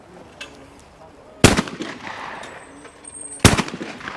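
A Kemen shotgun is fired twice at clay targets outdoors, two sharp loud reports about two seconds apart, each followed by a short rumbling decay.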